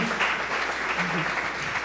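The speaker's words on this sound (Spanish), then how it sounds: "Pues denle un aplauso al Señor porque tiene cuidado de usted y de mí" Church congregation claps together in brief, steady applause at a Spanish-language worship service, somewhat distant and moderately loud.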